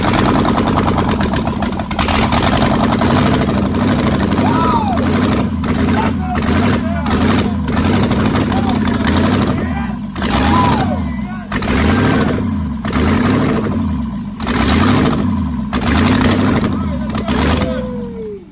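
An LS V8 swapped into a BMW E30 truck runs after its first start, a loud, lumpy idle with rhythmic revs rising and falling, while people talk and cheer over it.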